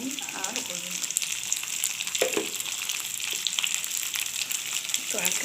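Potato pieces frying in mustard oil in a pan, giving a steady, close crackling sizzle with small pops and occasional stirring scrapes throughout.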